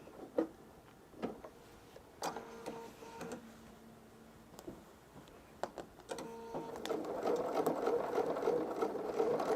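A sewing machine stitching a Christmas quilt runs in short whirring bursts with tonal motor hum, then settles into a longer steady run, fairly quiet and close with light clicks and no talking.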